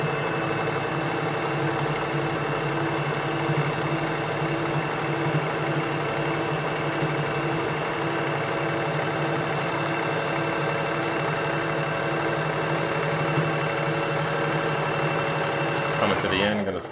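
A sewing machine runs steadily, stitching a homemade aquarium filter sock, with a continuous mechanical hum and rapid needle rhythm that holds close and loud throughout, then slows near the end.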